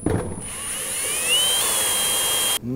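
A power drill pre-drills holes during a food truck seat build, its motor whining steadily and loudly for about two seconds, rising slightly in pitch, then cutting off abruptly.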